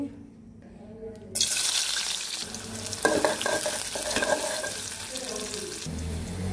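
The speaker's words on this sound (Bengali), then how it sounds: "কড়াইয়ে আমি তেল দিয়ে দিচ্ছি।" Oil hits a hot wok and breaks into a loud, steady sizzle while a home cook prepares a shrimp and green papaya curry, with some clattering and stirring in the pan.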